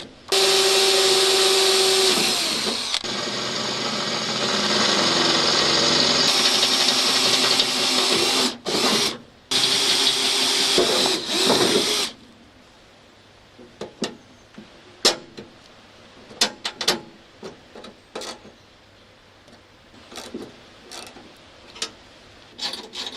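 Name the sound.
drilling new holes in mower deck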